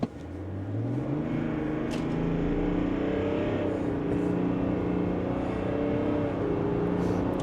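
A 2024 Chevrolet Silverado Duramax pickup accelerating hard, a loud steady engine drone rising in pitch through the gears, close and continuous with no talk.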